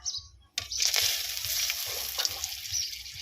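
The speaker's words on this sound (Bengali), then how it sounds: "তেলের মধ্যে দিয়ে দেবো শুকনো লঙ্কা গোটা গরম মশলা তেজপাতা" Dry red chillies, whole garam masala and bay leaves dropped into hot mustard oil in a kadai for khichuri. A sudden loud sizzle bursts out after a short silence and then keeps crackling steadily up close.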